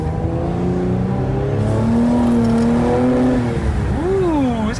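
A Cadillac CT5-V with a twin-turbo V6 accelerating, its engine note rising loud and close from inside the car, then dropping and swooping back up in pitch as the revs change.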